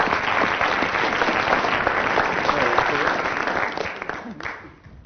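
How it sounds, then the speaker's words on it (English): Studio audience of a 1982 radio comedy panel game applauding; a dense, loud wash of clapping holds steady for several seconds, then thins and fades away. "Round of applause for Willie"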